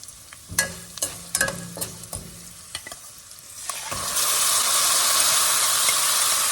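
Spices frying in oil for quinoa gongura rice, with several sharp spoon clacks and sputters, followed by a loud, rushing hiss as gongura leaves hit the hot oil and keep sizzling steadily.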